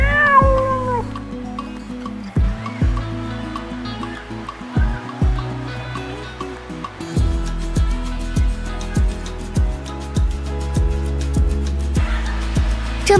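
A cat perched on a table at a seaside cafe begs for food with a run of repeated, drawn-out meows, close and clear, rising and falling in pitch.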